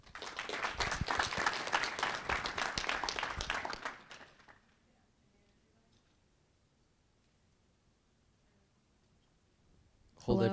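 An audience at a startup pitch competition claps steadily for about four seconds and then falls quiet, with a brief burst of noise near the end.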